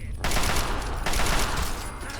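Sustained assault rifle fire in Fallout 3, a dense continuous burst of loud gunshots running almost the whole time after a brief quiet start.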